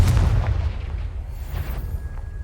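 Confringo fire spell exploding in the video game Hogwarts Legacy inside a cave maze, a loud, close, deep boom that rolls away into a fading rumble, with no talking.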